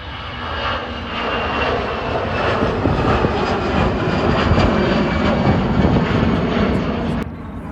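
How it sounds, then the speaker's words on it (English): An Iberia Express jet airliner roars through its takeoff roll at Manchester Airport, a loud, steady broadband engine rumble that holds for nearly eight seconds before easing slightly at the end. "Iberia Express takeoff roll."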